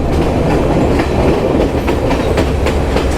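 A Sri Lankan train near Nanu Oya station rolls along the rails with a loud, steady rumble and faint rhythmic clickety-clack, continuous throughout with no voices.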